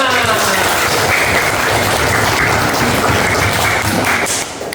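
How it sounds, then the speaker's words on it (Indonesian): Steady applause from a roomful of people in a classroom lesson, loud and continuous for several seconds before trailing off at the end. "Oke, tepuk tangan."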